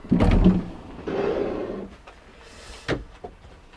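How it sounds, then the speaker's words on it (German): A door swings and bumps shut with a dull knock, followed by a soft rustle and a sharp click of the latch. "Deshalb kann man hier auch nochmal die Tür zumachen dann"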